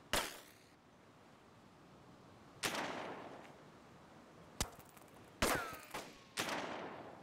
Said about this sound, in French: Ah ouais, ça tire d'en face.